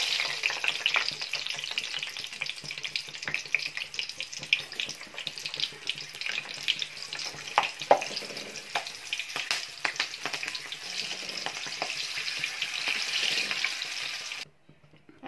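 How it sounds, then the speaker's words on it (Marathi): Green chillies fry in hot oil for vada pav, crackling and sizzling with sharp pops. The sound stays close and steady, then cuts off abruptly near the end. "आपण त्याच्या संग खाण्यासाठी हिरवी मिरची तळून घेऊ"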